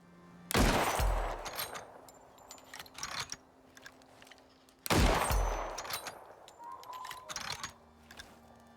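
Shots fired at firing-range targets in the survival video game Icarus, two sharp loud reports several seconds apart, each with a rattling decay, while someone talks quietly in between.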